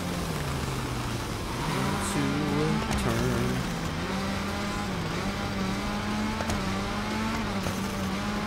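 A Ford rally car's engine in the Gravel off-road racing video game revs continuously, its pitch rising and dipping as it accelerates and shifts, with a brief tire squeal and no talking.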